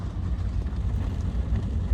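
Steady rain drums on a car while driving, a dense close wash of patter with a low rumble underneath, continuous and fairly loud with no voices.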